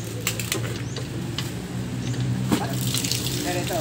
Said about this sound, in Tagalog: Tagal na itong gripo sigurado.